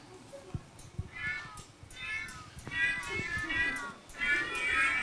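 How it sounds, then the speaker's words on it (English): Cat meows played as polyphonic chords on a music app, several layered meows stacking into tuned clusters in a repeating pattern over a faint background with light knocks. "You can play sort of cat chords."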